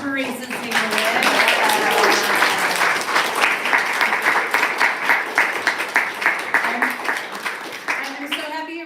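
A crowd claps steadily and loudly for poet Teresa Dzieglewicz at a reading, the dense applause lasting nearly nine seconds with faint voices mixed under it before it tapers off.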